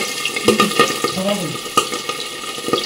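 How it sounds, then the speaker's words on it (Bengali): Fish frying in hot mustard oil in a wok, a steady close sizzle and crackle with a few sharp spatters and metal clinks, with faint bits of voice in the background. "তেল গরম হয়ে গেছে, এবার মাছগুলো এক এক করে ছেড়ে দেবো"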